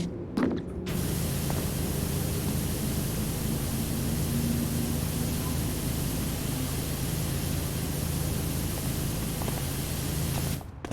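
A pressure washer's water spray in the video game Powerwash Simulator hisses as one loud, continuous broadband rush that runs almost unbroken for about ten seconds, with brief clicks at the start and end and no talk.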